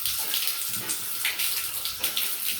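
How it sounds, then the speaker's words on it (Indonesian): Hands are washed under a running tap, a loud, steady hiss of flowing water close by, with small splashy fluctuations as the hands move through the stream and no talk. "basuh kedua tangan dengan air mengalir sampai tangan"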